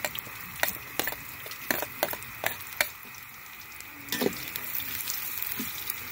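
Ginger and garlic sautéing in a pot for chicken tinola, a steady sizzle broken by repeated scraping stir strokes, fairly close, with no talking.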